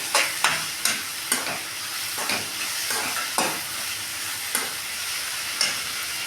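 Dry red chillies fry in a pan for idli chutney, giving a steady crackling sizzle with repeated sharp scrapes of a spatula at an uneven rhythm, close and moderately loud.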